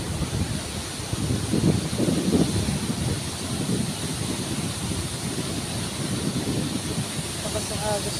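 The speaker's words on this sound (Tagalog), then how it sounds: "Lakas ng agos, guys." A strong current of foamy water rushes over Molino Dam in Las Piñas, a loud, steady roar with wind buffeting the microphone throughout.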